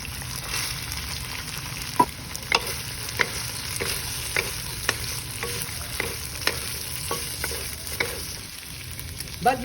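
Pork and carrots fry in a pan while a utensil stirs them, giving a steady sizzle with light scraping clicks at irregular intervals, close and without speech.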